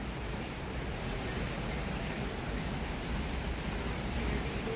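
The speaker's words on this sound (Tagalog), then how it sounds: "Yan, umuulan." Steady, faint rain falls during a typhoon, a dense even hiss with no distinct drops or thunder, continuous throughout.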